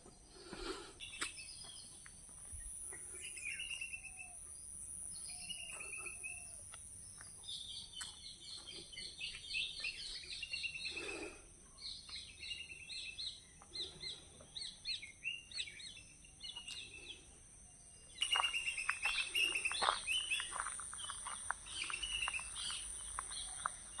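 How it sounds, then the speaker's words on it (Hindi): Several wild birds chirp and sing outdoors among trees after night rain near Murud-Janjira on the Maharashtra coast, with repeated short calls at moderate distance over a faint insect hum, growing louder and busier toward the end. "मैं आपको दोस्तों पंछियों की आवाज़ें सुना रहा हूँ, ध्यान से सुनिए।"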